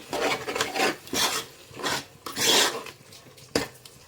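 A spoon scrapes and stirs ground mint and coriander paste in a pan, making rhythmic rasping strokes about every half second, close and fairly quiet, with no talking.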